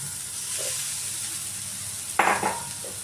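Chicken pieces drop into a hot pan of fried onions and set off a loud, steady sizzle of frying, with a sharper burst of crackling partway through.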